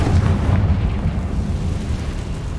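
A Confringo blasting spell detonates in a Harry Potter video game, a heavy low rumbling explosion that booms loudest at the start and rolls on as a dense, fading roar with no voices.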